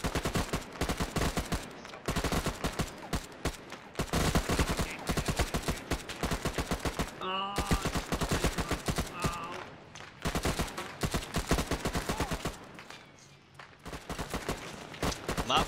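ArmA 3 heavy gunfire in a town battle: rapid automatic bursts, loud and close, crackling almost nonstop with a brief lull midway and short pauses between volleys.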